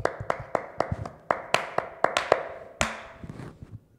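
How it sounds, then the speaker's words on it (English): A few people clapping close by on a talk show, sharp separate claps in a quick uneven rhythm that trail off into softer scattered claps and taps. "Clap it up."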